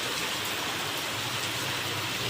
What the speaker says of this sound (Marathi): सकाळपासूनच पाऊस लागून राहिलेला आहे